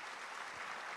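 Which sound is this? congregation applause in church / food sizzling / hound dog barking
congregation applause in church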